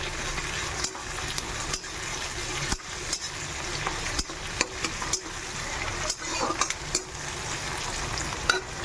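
Tomatoes fry in a pan, a dense, steady sizzle up close, punctuated by regular soft knocks and scrapes of stirring, with no voices.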